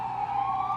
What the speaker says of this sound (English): I'm sorry, it's an ambulance.